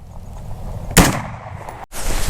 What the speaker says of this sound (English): I'm shooting this with an AR-15, just a regular 16-inch barrel